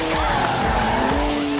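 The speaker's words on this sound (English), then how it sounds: "Three-litre straight six, 335 horsepower, 2 turbos, as much sideways action as you like." Tires squeal in a continuous skid as a three-litre twin-turbo straight-six car, 335 horsepower, slides sideways in Forza Horizon 4, with engine drone underneath, loud and close.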